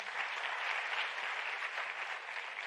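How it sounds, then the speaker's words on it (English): An audience at a science forum closing plenary gives Professor Remy Queron a round of applause, a dense, steady burst of clapping that holds evenly throughout. "can you give him a round of applause"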